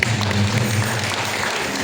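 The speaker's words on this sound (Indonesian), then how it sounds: "Berikan tepuk tangan buat Tuhan." A church congregation applauds during an evening worship service. Brief, steady crowd clapping sits over a low electrical hum.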